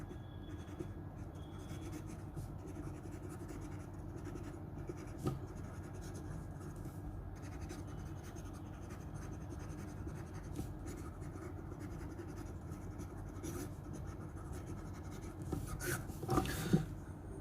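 A medium Schmidt fountain pen nib scratching steadily across paper, a faint continuous writing sound with light feedback texture and a few small taps.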